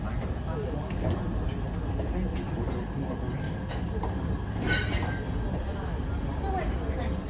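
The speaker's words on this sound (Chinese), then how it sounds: "各位旅客您好，列车即将进站，为了您的安全，请不要跨越月台黄线" An Alishan Forest Railway train rolls into a mountain station platform with a steady low rumble and occasional thin wheel squeals, while faint voices murmur in the background.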